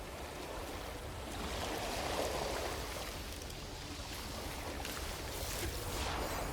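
Choppy ocean water in the No Man's Sky game, a steady loud wash of rushing, splashing surf noise continuing throughout without talk.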